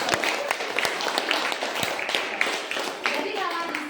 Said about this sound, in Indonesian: Kita tuh beri tepuk tangan dulu.